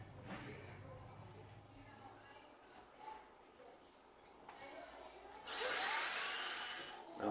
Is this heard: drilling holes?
yes